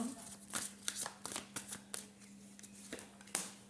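Tarot cards are handled and drawn at close range, giving a series of crisp card snaps and flicks over a faint steady hum.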